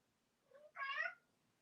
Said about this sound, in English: the cat is meowing to go out